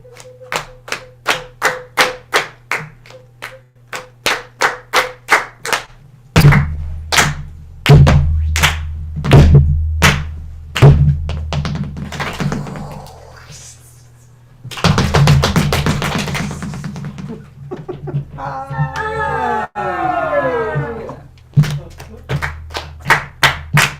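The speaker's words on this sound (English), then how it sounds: "any sound doesn't matter. You can clap. You can stomp." A music education class claps and stomps together, starting with sharp, evenly spaced claps, then heavier thumping stomps and mixed rhythmic noise, with a voice and some vocal sounds now and then.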